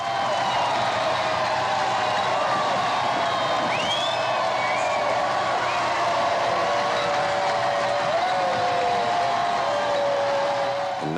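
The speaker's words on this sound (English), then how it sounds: "The huge, cheerful crowd that has waited so long and patiently roars and waves its welcome." A huge cheerful crowd at a royal wedding roars in a steady, dense wall of cheering and whooping that holds at constant loudness, with faint whistles rising above it.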